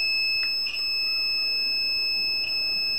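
A steady high-pitched electronic tone from a multimeter continuity test on a gaming PC's components, under a quiet background, with two brief clicks.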